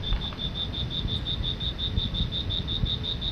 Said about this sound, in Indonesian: hanya terdengar suara bunyi jangkrik